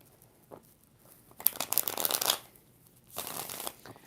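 Tarot cards being shuffled during a live reading, giving two bursts of crisp riffling and flicking about a second long, with a softer tap before them and no talk.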